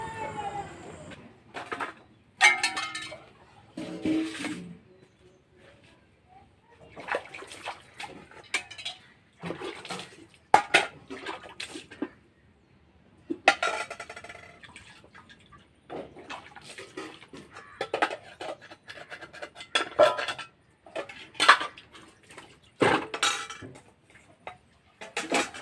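Dishes, pots and cutlery being washed by hand with water in a home kitchen, with repeated clinks, clatters and splashing in uneven bursts, close by and moderately loud.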